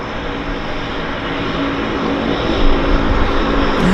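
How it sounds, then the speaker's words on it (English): A Cessna Caravan on floats at Vancouver's downtown harbour, its propeller engine droning steadily and loudly with a broad, rough roar that swells slightly toward the end, with no voices. "it's a very capable airplane, the Cessna Caravan on floats"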